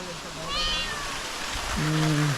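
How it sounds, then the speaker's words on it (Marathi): A cat meows twice in a Konkan village, a short high cry and then a longer, louder one, over soft background noise with faint voices. "ते मनीमेव पण आली आहे"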